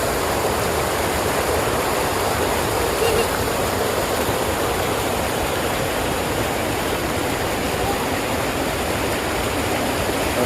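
A waterfall at Deras Dam pours steadily, a dense, unbroken rush of water that holds at the same loud, even level for the whole stretch, with no voices over it.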